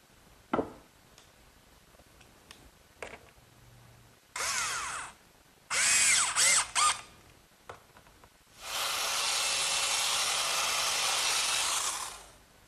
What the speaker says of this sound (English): the belt sander does a great job with the initial sanding